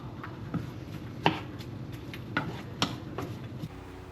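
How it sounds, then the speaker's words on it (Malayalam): A knife chops a wetted onion on a board in sparse, uneven strokes, several sharp taps spaced apart over a soft background hum, close and clear. "എനിക്കിത് നനച്ച് സവാള അരിയുമ്പോൾ ഭയങ്കര ഇഷ്ടമാണ്"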